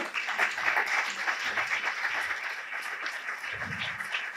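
A conference audience at the Diputación de Albacete applauds to welcome a speaker to the stage, a steady dense wash of clapping from a full hall that runs through the whole stretch without a break.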